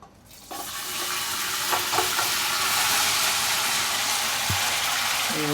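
Beef frying in oil from fried onions sizzles loudly and steadily, a dense crackling hiss that swells right after the meat goes in. A few soft utensil knocks sound under the sizzle.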